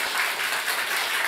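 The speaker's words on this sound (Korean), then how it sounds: "크게 박수할까요?" Church congregation clapping during an anniversary Sunday service, a brief, even wash of many hands applauding together, steady and fairly loud for just over a second.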